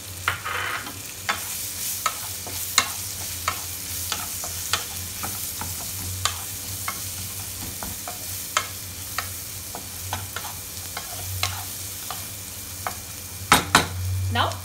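Chopped onions frying in a pan with turmeric and Kashmiri red chilli powder for paneer masala, a steady sizzle with repeated sharp scrapes and knocks of a spoon stirring, louder clatter near the end.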